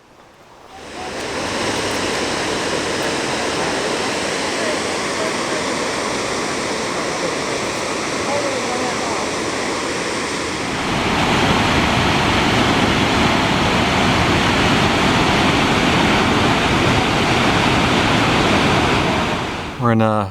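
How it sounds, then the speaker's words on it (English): A constant roar of Gibbon Falls, a roadside waterfall in Yellowstone, fills the scene, loud and unbroken, growing slightly brighter and closer partway through. "It's another more or less roadside waterfall."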